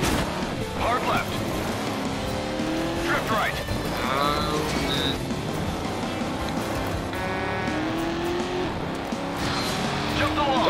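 A car drifts during the Ridge Race stage of the driving game Stuntman Ignition, with engine roar and squealing tires sliding through turns beneath continuous excited talk.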